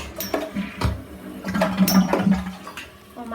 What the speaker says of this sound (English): Galaxy Pegasus, use Toilet Flush.